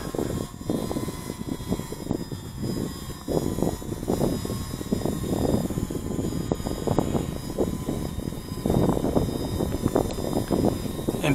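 An UpAir One camera drone flying and rising over a cemetery, its rotors giving a steady close buzzing whir with fluttering wind gusts across the mic throughout.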